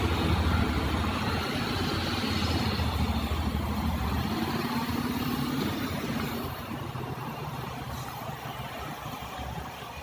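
A Honda CB motorcycle engine idles with a steady low rumble, close by in a showroom in Phuket Town, Thailand, easing slightly quieter partway through.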